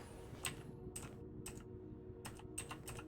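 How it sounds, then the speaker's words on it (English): Typing on a quiet computer keyboard, short clustered bursts of soft key clicks separated by pauses, close but low in level over a faint steady background hum. "This keyboard's quiet?"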